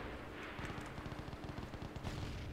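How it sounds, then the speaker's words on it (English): MG42 machine gun firing in the WW2 shooter ARMA 3 Iron Front, a rapid, continuous ripping burst of tightly spaced shots, loud and sustained, heard alone without speech. "That MG42 sounds so beast"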